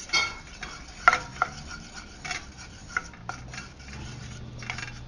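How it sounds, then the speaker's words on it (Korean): Butter and flour being stir-fried in a pan for a hamburger steak sauce, with soft scraping and stirring strokes and a few light utensil clinks against the pan, fairly quiet and steady. "살살 볶아주세요. 버터하고 밀가루가 잘 섞이게"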